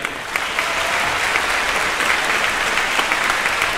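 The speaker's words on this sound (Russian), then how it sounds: "Под ваши аплодисменты, дамы и господа" Sustained audience applause at a Christmas symphony and choral concert in Moscow, dense, even clapping from a large crowd filling the hall throughout.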